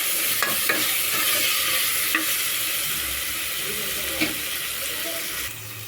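Onions and turmeric frying in a pan, a continuous close sizzle with occasional sharp spoon taps and clinks against the pan, no voices, the hiss easing slightly near the end.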